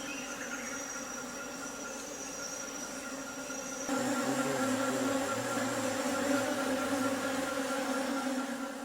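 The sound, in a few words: forest bees buzzing around camp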